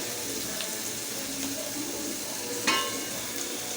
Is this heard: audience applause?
no